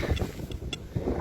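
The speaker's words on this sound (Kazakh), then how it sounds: "Бүгін бізде қатты жел тұрып тұр." Strong wind blowing outdoors on an open field, buffeting the microphone in low rumbling gusts, close and steady with no other sounds.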